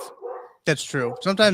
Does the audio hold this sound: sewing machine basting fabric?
no